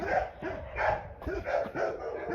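A small dog barks repeatedly in short, sharp bursts, close by, about five barks in quick rhythm.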